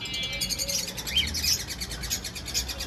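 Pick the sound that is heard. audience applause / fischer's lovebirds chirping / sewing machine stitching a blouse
fischer's lovebirds chirping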